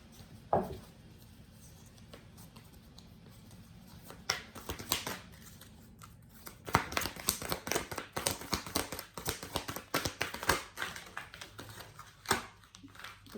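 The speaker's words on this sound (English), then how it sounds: "These cards are so hard to shuffle." Large, stiff tarot cards being shuffled up close, irregular bursts of crisp flapping and riffling clicks with brief pauses between handfuls.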